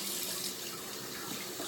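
Tap water running steadily at close range to wet a synthetic shaving brush, a continuous broad hiss with no pauses and no talking.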